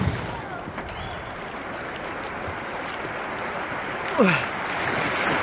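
Continuous rushing of a strong, cold river current flowing past, broad and steady, with a brief splash or knock near the end.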